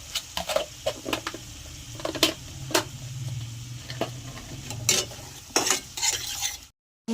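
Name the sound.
stir-frying spice masala with sugar in a pan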